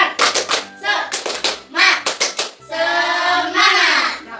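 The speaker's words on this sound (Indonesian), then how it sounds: "Coba tepuk semangat." A primary-school class claps out the quick 'tepuk semangat' rhythm in clustered bursts of hands, with young voices chanting along between and over the claps.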